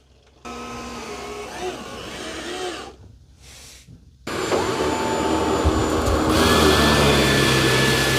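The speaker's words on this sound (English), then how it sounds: "So I told it to go clean the same room as the Roomba. Okay, so it's going to undock itself." Dyson 360 Vis Nav robot vacuum undocking, a steady motor whine and suction hum that drops briefly, then ramps up to a louder, fuller roar as the full-size front brush starts cleaning a room.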